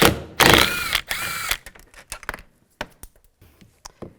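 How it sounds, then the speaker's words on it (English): A ratchet with a 10mm socket loosening a bolt on a 2007-2013 Chevrolet Silverado door panel, heard as a few loud close ratcheting bursts followed by scattered lighter clicks and taps. "Use a 10mm socket."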